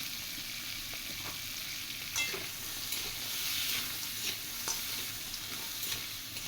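Crab pieces with turmeric and salt frying in a pan, a steady close sizzle running throughout with occasional scrapes and knocks of a stirring utensil.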